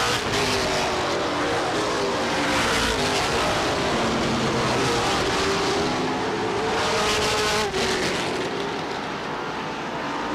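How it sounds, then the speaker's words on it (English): Stock cars racing at Star Speedway in 1994, including car number 21, roar continuously and loudly with engine pitch rising and falling as cars pass close by throughout. "Wendell driving the Polyvac sponsored car number 21."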